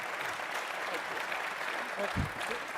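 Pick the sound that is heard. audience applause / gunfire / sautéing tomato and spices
audience applause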